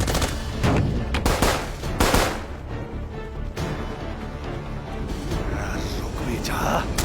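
Gunfire in the animated film Appleseed Alpha: dense, loud bursts of automatic shots and impacts fill the scene, with rapid cracks clustered early and continuing under a busy action mix, and voices speak over parts of it.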